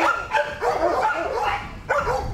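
Several dogs bark and yip at an animal rescue shelter in Leander, Texas, overlapping loud barks close by in a continuous burst.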